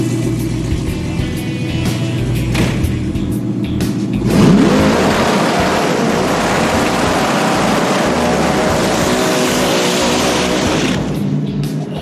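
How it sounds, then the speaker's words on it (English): Hot rod car doing a burnout in second gear: an idling engine suddenly roars up about a third of the way in, holding a loud, rough, sustained rev with hissing tire noise before easing off near the end. "For the burnout, try second gear."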